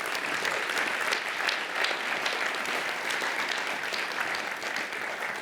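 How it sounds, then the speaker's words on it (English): A large audience at an awards ceremony applauds continuously, a dense, even wash of clapping that holds steady for several seconds. "Applause."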